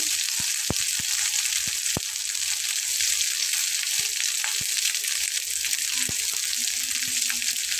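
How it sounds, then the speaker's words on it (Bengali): Chicken pieces and potatoes hitting fried onions in a hot pan give a constant loud sizzle close by, with scattered sharp clicks and taps of a spoon against the pan and no talking. "তো দেখুন আমার এটা কিন্তু হয়ে গেছে পেঁয়াজটা ভেজে নেওয়া। এখানে চিকেনগুলোকে দিয়ে দিচ্ছি।"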